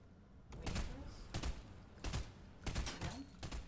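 Bursts of gunfire in a Fortnite match, several rapid volleys in clusters spread across the moment, fairly close and loud against quieter game ambience.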